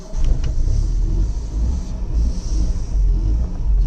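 A 1970 Lancia Fulvia Berlina with a 1300 V4 engine drives on a hot day in southern Italy, giving a steady low engine rumble close up that swells and eases slightly throughout.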